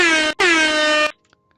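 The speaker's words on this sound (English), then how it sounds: "an air horn and stuff" Two loud blasts of an air horn, a brief one then a longer one, with a sharp cutoff into near silence.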